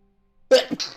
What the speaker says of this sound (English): Oh god, I have to sneeze again!